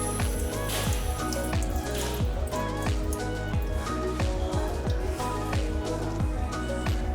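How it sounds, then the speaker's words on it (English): Tap water runs over an Aeropress paper filter during a rinse, a continuous splashing stream with a rapid, irregular patter of drips and gurgles close by. "give it a rinse under the tap"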